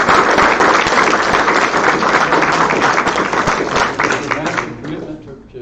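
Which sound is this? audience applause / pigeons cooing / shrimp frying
audience applause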